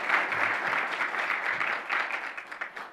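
An honors brunch audience breaks into applause, a warm roomful of steady clapping that stays fairly even before tapering into a few sparse, distinct claps at the close.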